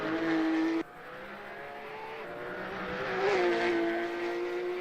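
Porsche Carrera Cup race cars lap Oulton Park in 2007, a loud engine howl that drops sharply at a gear change and then climbs steadily again as the car accelerates past, with no voices.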